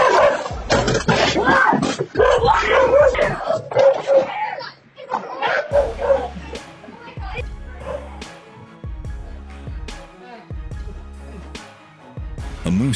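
A family dog barks near a home's front door as a black bear goes after it, with sharp repeated barks and yelps mixed with frantic human shouting and screams.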